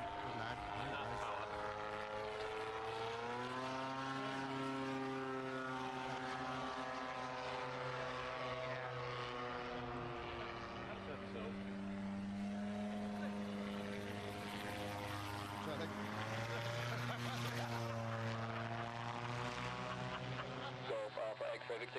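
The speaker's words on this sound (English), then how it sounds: "Now, a bit of power on, Tony." A gyroplane engine under power in flight gives a steady droning hum with slowly shifting pitch, moderately distant and continuous, while voices talk over it.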